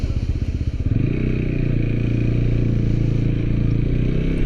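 A TVS Apache RTR 200 motorcycle with a reported noise problem runs loud and close, a steady, even engine drone that settles after a brief rougher start.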